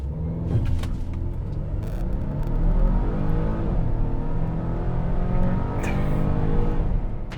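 A 2022 Volvo XC90 in dynamic mode accelerates hard from a standstill through a 0-60 run, its engine note climbing steadily through the gears with a loud, continuous roar heard from inside the cabin.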